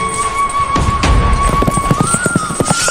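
A galloping horse's hooves as a sound effect, with quick rhythmic clip-clop beats building over a high sustained musical tone, no talk.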